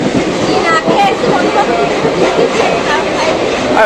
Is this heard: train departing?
yes